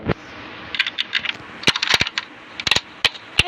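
Small metal keys jingle and clink in a series of sharp, bright jangles and taps, close by with uneven rhythm and brief pauses, no talking.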